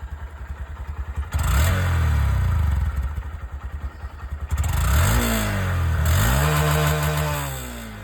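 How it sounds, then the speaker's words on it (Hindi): A Honda SP 125 motorcycle exhaust putters at idle, then is revved up and settles back several times, loud and close. "एक बार दोस्तों इसकी जो एग्जॉस्ट साउंड है वो भी आप लोग यहाँ पर सुन लीजिए।"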